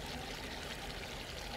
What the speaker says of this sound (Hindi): अब इनमें हम पानी शामिल कर लेंगे।